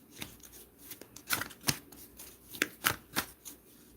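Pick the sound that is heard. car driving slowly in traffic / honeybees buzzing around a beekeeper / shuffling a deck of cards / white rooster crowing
shuffling a deck of cards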